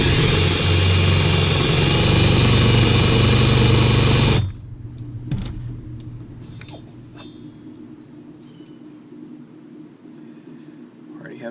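Impact wrench with a clutch tool spinning during a Husqvarna 272 chainsaw build, a loud dense whirring burst that cuts off sharply after about four seconds, followed by quiet handling sounds.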